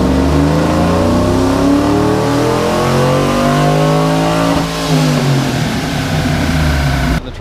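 A Chevrolet Tahoe with headers running on E85 revs hard through a dyno pull, its loud engine note climbing steadily in pitch for several seconds before cutting off near the end, heard alone without talk.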